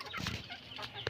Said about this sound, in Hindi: यहाँ पर देखें हमारा मुर्गा